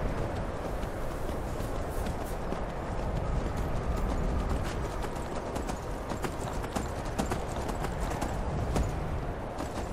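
Steady clip-clop of horse hooves at a brisk trot in the video game Skyrim, close and continuous, over a rumbling background bed with no talking.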